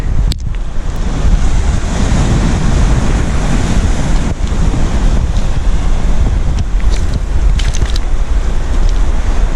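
Steady roar of sea surf breaking on Sandsend beach with the tide going out, heavy wind buffeting the microphone throughout, loud and continuous with no voices.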